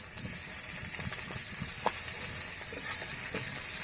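Onions and vegetables frying in a pan, with a steady close sizzling hiss and faint scraping stirs, ahead of a poppy-seed paste dish with ridge gourd, potato and Morala fish.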